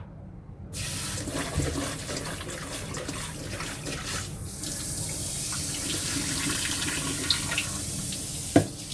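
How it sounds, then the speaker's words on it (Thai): Tap water runs steadily into a sink while peeled fresh shrimp are rinsed, a continuous close splashing stream with small clinks and a sharper knock near the end. "เราล้างน้ำไปสะอาดเดี๋ยวเราจะมาล้างน้ำอีกทีนะคะ"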